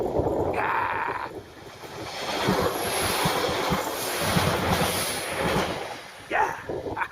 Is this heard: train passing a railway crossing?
yes